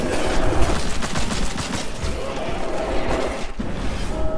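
Rapid gunfire crackles through a loud, dense battle mix in the video game Immortal: Unchained, including sniper fire from above, sustained throughout with no talking.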